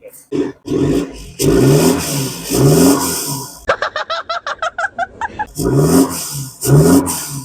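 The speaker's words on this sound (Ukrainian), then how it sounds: "Мікрофон отак поставили, прям газнемо." The 2.0 diesel engine of a Chevrolet Orlando revs loudly close by in repeated surges, with a stretch of rapid rhythmic pulsing near the middle before the revving returns.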